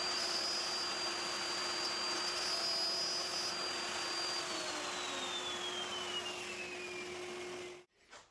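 A handheld router cuts grooves in a wooden note holder, its motor holding a loud, steady whine for about eight seconds before cutting off abruptly.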